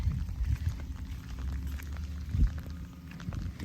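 Rain falling in a quiet coastal town at Tin Can Bay, Australia, a steady soft patter with low rumbling background noise and occasional louder splashes.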